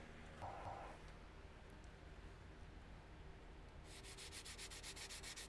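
Kar 98 rifle stock, wooden, being lightly sanded by hand with 150 grit sandpaper, a faint continuous soft scratching close by, growing into quicker rhythmic strokes near the end, with no talking.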